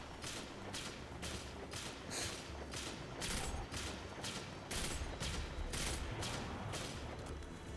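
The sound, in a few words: Leviathan's Breath bow shots in a video game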